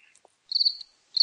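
Crickets chirp in two short, shrill bursts about half a second apart, clear and fairly close against an otherwise quiet background with no talking.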